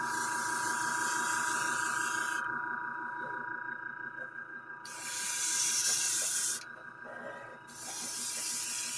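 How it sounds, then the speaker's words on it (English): Spray painting a Klingon ship model from a distance with repeated passes: bursts of broad airbrush hiss start and stop, with a steady compressor hum running underneath throughout. "I'm spraying far away and I'm going around lots."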